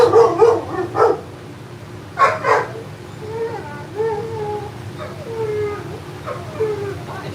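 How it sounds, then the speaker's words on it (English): Several sharp dog barks in quick bursts close by, followed by softer whining and yipping, with a person's voice mixed in. "They're just barking at people walking by."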